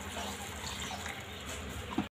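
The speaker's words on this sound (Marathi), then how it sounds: "आता आपण ह्याच्यामध्ये जे मटण शिजवलेलं पाणी होतं ते थोडंसं टाकून घेऊया।" Cooked mutton stock poured into white rassa in a pan, a soft continuous watery pour at close range, fairly quiet and steady, ending with a brief splash.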